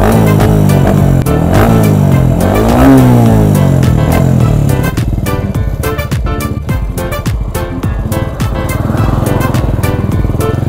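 An upgraded-spec Kriss MR1 motorcycle accelerates hard during a top speed run. Its engine roars loud and close, the pitch climbing steeply before settling into a sustained high-rev drone with no talking.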